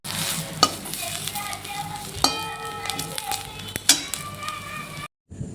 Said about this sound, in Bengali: কাঁচা লঙ্কা দু একটা দিয়ে ভালো করে ভেজে নেব